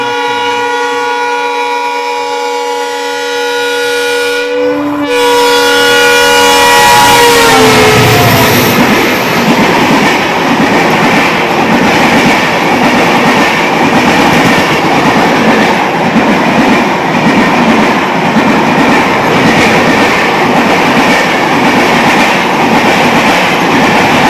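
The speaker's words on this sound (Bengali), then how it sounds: "একটা লিডো এক্সপ্রেস আসছে ডিব্রুগড় থেকে, তাই আমাদের ট্রেনটা দাঁড়িয়ে আছে।" Lido Express train passing a stopped train: a loud sustained horn blast, then a continuous close roar with rattling clickety-clack of wheels and cars rushing by.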